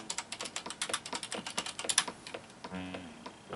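A computer keyboard is tapped in a quick run of close, crisp keystrokes as a command is typed into a game. A short pause and a small electronic tone follow.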